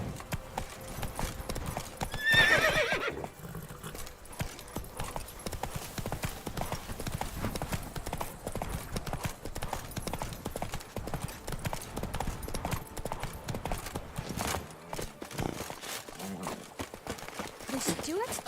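Horse galloping in The Witcher 3: Wild Hunt, rapid rhythmic hoofbeats clattering steadily with a whinny near the start, all under ongoing speech.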